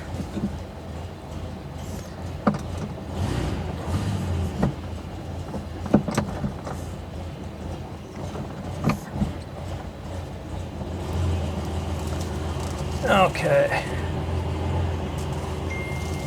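A cold air-cooled 1972 Porsche 911 engine idles roughly with a low uneven rumble and occasional clunks, and one person speaks briefly.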